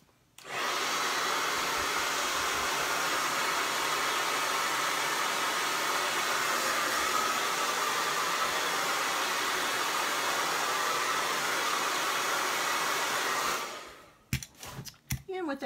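A hair dryer blows steadily on wet acrylic paint on a DIY painted clipboard, a loud continuous whooshing roar lasting about thirteen seconds before cutting off into a few handling knocks.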